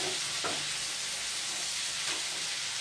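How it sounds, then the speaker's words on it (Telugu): Food fries in a pan with a steady, close sizzle while it is stirred and turned, with brief scraping accents over the constant hiss and no talking. "ఇది బాగా ఫ్రై చేసుకుందాము"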